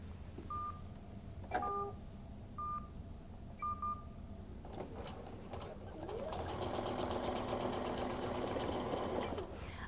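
A QuiltMotion X computerized quilting machine stitches through a quilt, starting with short bursts separated by beeps and pauses, then settling into a steady, continuous hum of stitching that grows louder over the final few seconds.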